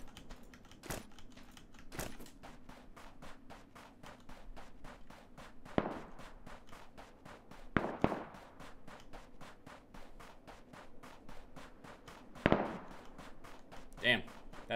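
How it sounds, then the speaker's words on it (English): Gunfire from a Remington in the video game Ring of Elysium, several sharp distant shots spaced irregularly over a steady run of quick footstep-like clicks, with a few louder cracks standing out. "That's a Remington."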